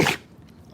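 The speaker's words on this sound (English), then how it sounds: "Whoa, bless you." A dog's quick, snorting sneeze right at the start, fading fast into near silence.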